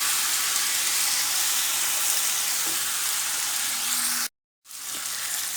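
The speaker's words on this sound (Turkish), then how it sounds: "Şehriyemiz iyice kavrulacak." Vermicelli toasting in a pan gives a steady, close frying sizzle and hiss that runs without a break until a short silence near the end, then resumes.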